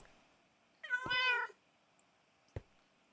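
A single cat meows once in a Minecraft game, a short, clear, mid-loud call standing alone, followed by a brief soft click.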